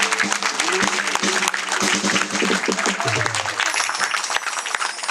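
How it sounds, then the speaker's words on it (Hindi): Guests at a Christian wedding ceremony clap in a dense, steady burst that runs the whole time, with someone talking over it. "ताली नहीं बजाते अपनी ताली बजावा"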